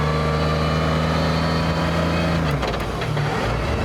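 A Mercedes-Benz CLK GTR race-derived hypercar with straight-cut gears runs loud and close with a steady droning engine note, then the pitch drops and shifts partway through, with gear and mechanical noise throughout.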